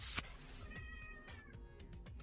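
A house cat meows, a clear, close, drawn-out cry with a short sharp onset, rising over a quiet room with no one talking.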